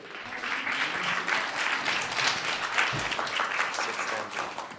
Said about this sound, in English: please give a round of applause for Rebecca.